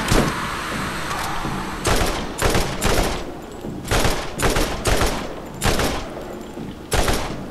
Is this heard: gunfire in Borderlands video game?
yes